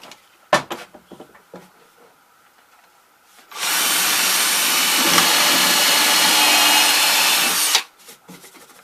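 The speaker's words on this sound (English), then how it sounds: "Now let's throw some screws down from the top to attach it." Power drill driving screws down through wood while building a router table on a Craftsman table saw; one loud, steady burst lasting about four seconds, preceded and followed by light knocks and handling sounds.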